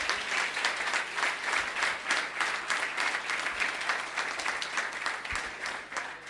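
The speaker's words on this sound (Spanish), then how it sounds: "quisiera que todos le demos un gran aplauso" Sustained audience applause fills a hall at a 2019 CRA Ateneos congress, a dense, steady wash of many hands clapping at once without a break, loud and close throughout.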